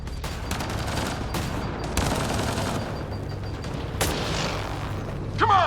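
Enemy gunfire in Mass Effect Andromeda comes as dense, overlapping volleys with sharp cracks and dull booms over a constant rumble, loud and sustained throughout.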